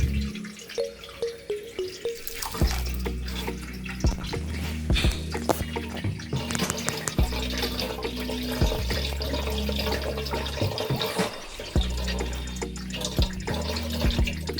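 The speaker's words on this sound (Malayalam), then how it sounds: "കുറച്ച് അരിപ്പയിൽ ഇങ്ങനെ ഒഴിച്ചു വെക്കുക. കുറേ വെള്ളം അങ്ങനെ അടിയിലേക്ക് വീഴും." Water drains through a sieve while arrowroot powder is being made, a steady trickle and splashing drips falling into the vessel below, with clinks of the container in between.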